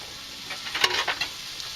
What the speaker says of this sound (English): Now I just put the peppers and onions in there.